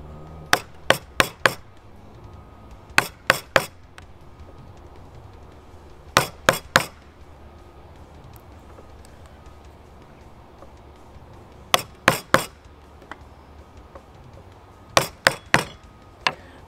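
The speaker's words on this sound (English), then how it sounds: "So I'm just taking away large bits of wood with the chisel." A chisel strikes the wooden neck of a handmade guitar to remove large chunks. Sharp, close knocks land in quick clusters of two or three, separated by quiet pauses, with no talking.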